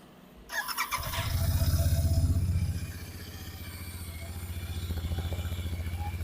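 A Royal Enfield Continental GT 650 cafe racer fires up and settles into idle, a close, deep, evenly pulsing exhaust burble that swells briefly after starting and then holds a steady throb.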